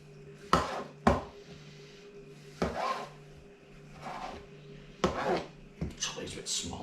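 Knife chopping tomatoes on a board for a creamy tomato soup, several sharp, separate knocks at an uneven pace, close up, with a low steady hum underneath.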